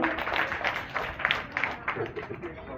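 An audience claps at a school prize-giving held for an Eid-e-Milad-un-Nabi celebration. The scattered, irregular handclaps rise and fall under a speaking voice.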